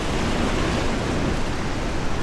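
Strong ocean waves crash on a beach at Jeju Island, making a loud, continuous broadband roar of surf with no voices over it.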